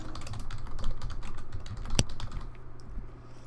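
Rapid computer keyboard typing with clustered key clicks and one sharp louder click midway, close and fairly loud, easing off toward the end with no speech.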